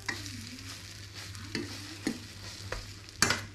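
Egg-soaked French toast with cinnamon fries in a pan, giving a steady close sizzle throughout, broken by a few sharp scrapes and clatters as the slices are handled and flipped.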